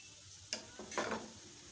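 A spoon briefly scrapes and stirs through pumpkin raita with onion, tomato and mint-coriander chutney, giving a few soft, close, wet clicks and swishes.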